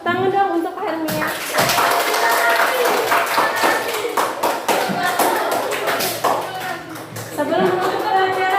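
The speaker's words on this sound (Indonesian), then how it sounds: "Tepuk tangan dong untuk Hermia" Classroom of students clapping for a classmate after a lesson, loud close uneven clapping after a brief spoken opening, with children's voices mixed in.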